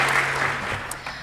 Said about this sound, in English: round of applause for Eddie.